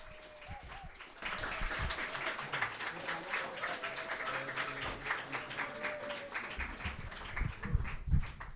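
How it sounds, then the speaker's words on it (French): An audience applauds a slam poet at a slam workshop event in Flémalle, with a dense wash of clapping after a short quiet start, steady and moderately loud for several seconds with a few stronger claps near the end. "Je vais vous demander un véritable tonnerre d'applaudissements pour Monsieur 13"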